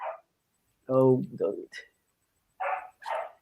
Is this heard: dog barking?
yes